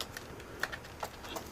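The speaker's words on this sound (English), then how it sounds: "Let me just put this keyboard in." Laptop keyboard being fitted into a Sony Vaio, a few faint plastic clicks and taps against a steady background hiss.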